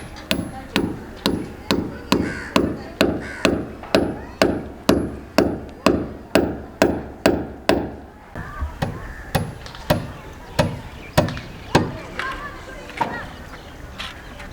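Hammer driving nails for hanging festive decoration lights at home, a close run of steady, evenly spaced sharp blows that then turns slower and more irregular, with a voice talking in the background.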